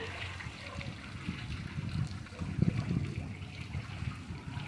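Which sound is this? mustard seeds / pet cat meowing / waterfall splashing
waterfall splashing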